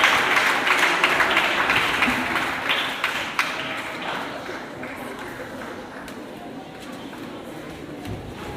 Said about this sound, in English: And let's clap for these young people as they step back.